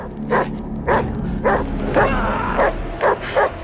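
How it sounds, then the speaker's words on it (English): Wild dogs in a film bark and yip in short, loud bursts while surrounding and attacking a man, about seven sharp barks spaced irregularly over a low, steady rumble of background sound. "The dogs kept on attacking him furiously by surrounding him from left to right."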